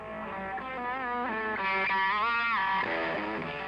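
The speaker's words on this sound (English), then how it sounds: "They are the aggressive sound of an electric guitar" Heavily distorted Parker electric guitar plays a sustained, gritty phrase with bending notes, loud and alone.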